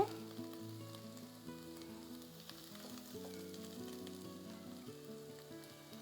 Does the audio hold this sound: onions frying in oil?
yes